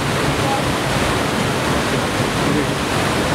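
Water cascades steadily at Waterford Waterworks, a dense, continuous broadband rush like a waterfall, loud and close with no break over the whole stretch.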